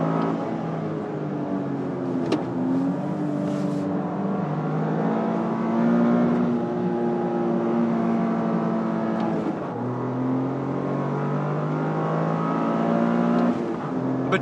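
Toyota GR Corolla Morizo driven hard on a track in 30/70 front-rear torque mode, engine revving up and down through gear changes with a steady, loud in-car drone and no talk.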